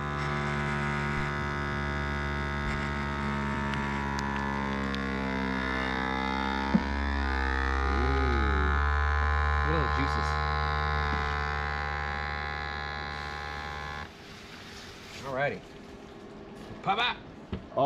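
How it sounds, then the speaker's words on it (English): An outrigger vacuum sealer sealing bags of mullet runs with a loud, steady buzzing hum that shifts in pitch as the air is drawn out, then cuts off, followed by a few short clicks and rustles. "We got us a good old outrigger vacuum sucking sealer"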